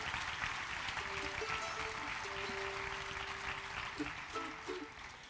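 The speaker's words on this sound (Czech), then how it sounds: "Pojďme jim všem zatleskat za super práci" Audience at a folk and bluegrass concert applauding the performers and crew, a quiet, continuous patter of clapping heard from a distance, with sustained instrument tones sounding beneath it.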